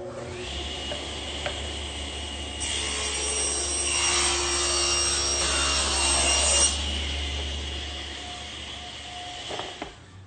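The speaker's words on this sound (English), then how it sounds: "And to cut them, I'll just use my stationary saw." Stationary saw ripping and cross-cutting solid wood panels in a woodworking shop, the motor humming steadily while the blade bites into the wood for about four seconds of louder rasping cut, then winding back to the idle whine.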